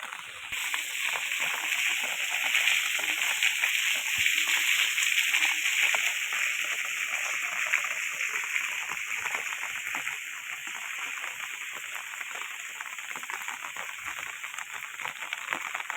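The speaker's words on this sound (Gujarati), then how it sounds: "અને અટાણના પણ વરસાદ ખૂબ આવી રહ્યો છે" Heavy rain pours down in Rajula as a dense, unbroken wash of hiss that stays strong and even throughout, with no clear voices.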